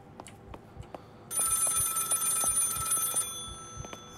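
Telephone bell ringing in the horror game Maid of Sker: one sustained, bright metallic ring of about two seconds, loud and near, over soft muffled background thumps, with no talk.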